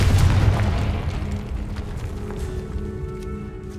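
A Confringo blasting spell in the Hogwarts Legacy video game sets off a loud booming explosion at the start, and its deep rumble slowly fades over the next few seconds.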